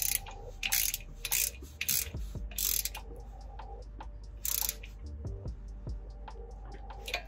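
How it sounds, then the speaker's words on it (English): A ratchet wrench snugging a bolt on a Jeep Wrangler differential cover after a fluid change gives a quick series of close, dry clicks, several short bursts of ratcheting separated by brief pauses. "I'm just going to tighten up this bolt again, so snug it out."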